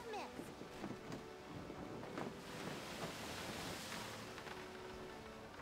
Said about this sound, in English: There's some more crazy waves are on.